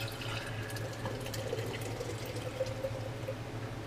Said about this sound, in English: I'm going to carefully pour it back into the jar that I have labeled developer.